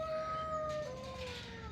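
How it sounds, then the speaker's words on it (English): A faint, distant rooster crow in a barnyard, a single drawn-out call that trails off over background noise. "I hear you, rooster"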